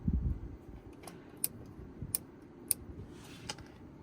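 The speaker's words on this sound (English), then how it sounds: "A clicky aircon noise. Here, listen to this." A series of crisp, close plastic clicks, about six spaced irregularly, as dashboard climate controls are turned in a 2025 Honda CR-V Hybrid Sport L, over a soft fan whir.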